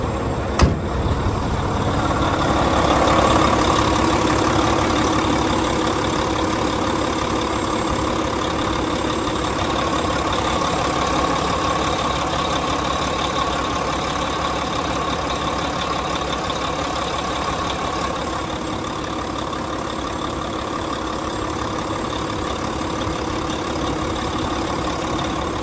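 A 2014 Volvo VNL64T300 truck engine idles with a steady, even rumble and a constant mechanical hum, holding at a level loudness from start to finish with no talking.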